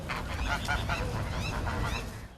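A flock of geese honks repeatedly, loud and close, with overlapping calls over a low background rumble.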